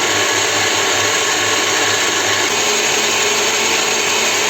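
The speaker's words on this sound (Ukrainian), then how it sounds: "і збиваємо ці два білки" An electric mixer whips two egg whites with a pinch of salt for a Ukrainian layered cake, giving a loud, steady, close whirring drone that runs unbroken throughout with no talking.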